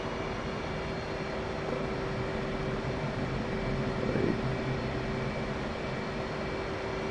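An F/A-18C fighter jet engine in a flight simulator runs as a steady, loud, broadband roar with a constant tonal hum. It swells slightly near the end of the stretch, with no talk over it.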